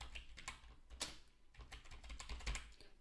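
Fingers tap out a login name on a computer keyboard in quick, uneven bursts of clicks, close but quiet, with no speech.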